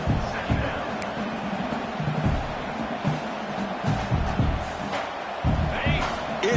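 A fired-up football stadium crowd roars early in a game, a loud continuous wall of cheering and shouting with surging peaks, close and dense throughout.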